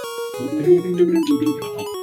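Bright, quick electronic melody from Pokémon Yellow played at faster speed, with layered tones and a busy, hurried rhythm, played clearly with no talking.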